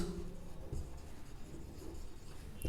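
A pen or marker writes angle definitions during a maths lesson, giving a faint, continuous scratching and rubbing close by, with a couple of soft taps and no talk.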